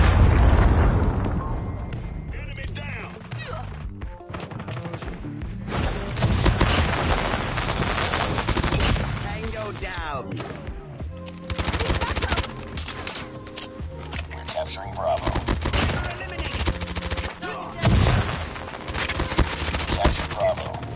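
Video game gunfire crackles in rapid bursts alongside booming predator missile explosions, loud and dense, with voices talking intermittently over the combat.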